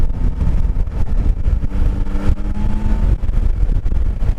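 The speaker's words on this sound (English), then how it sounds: "I'm on 5th gear and this thing's got plenty of pull" Yamaha Tracer sport touring motorcycle engine pulling hard in fifth gear, a loud continuous rumbling drone with steady wind noise, close and unbroken throughout.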